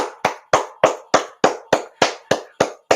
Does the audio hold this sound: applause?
yes